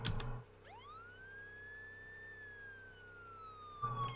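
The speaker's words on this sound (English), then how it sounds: "Love the siren on it." A police car siren in Farming Simulator 19 winds up and holds a long rising-and-falling wail, loud and close, with brief engine noise at the start and end.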